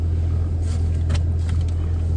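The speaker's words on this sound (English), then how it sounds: "I just got in the car" Car interior at early morning with a steady low engine and road rumble droning throughout, faint rustling and small handling noises on top, no talking.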